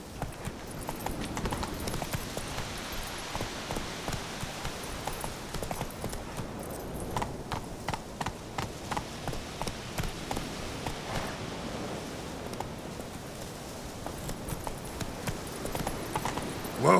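Roach the horse in The Witcher 3 walks along with a steady clip-clop of hooves, moderately close and fairly soft, over a quiet outdoor game ambience.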